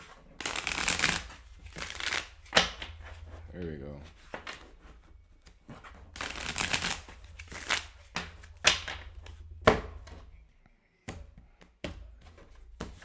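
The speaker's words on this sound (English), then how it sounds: "gonna shuffle them real good." Tarot cards riffle and slap together in several bursts, with a person talking quietly between the shuffles.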